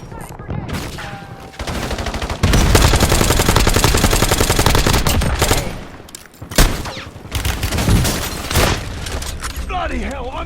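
Gunfire in Call of Duty Warzone on Verdansk: loud sustained automatic bursts, separate sharp shots and a boom, with game voice lines heard between the volleys.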